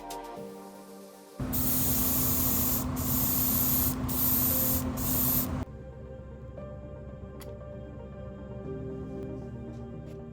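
Red paint hisses from a spray can onto the brake calipers of an AMT Chevy Beretta GTZ model car, one loud steady burst of about four seconds with brief pauses, then quiet.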